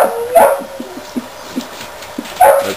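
A little puppy gives high yips and barks, with a couple of loud bursts at the start and end and soft whimpers between them, close to the listener.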